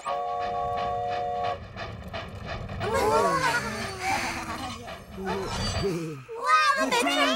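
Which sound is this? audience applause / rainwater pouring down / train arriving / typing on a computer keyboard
train arriving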